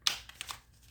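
Tarot cards shuffled in a single quick riffle, a sharp papery burst at the start followed by a few soft flutters and taps, close and brief with no talking.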